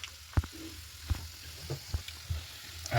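Sliced garlic hits hot oil in a pan of tempering for a cabbage dish, with soft sizzling and a few sharp crackles and pops spread across a few seconds.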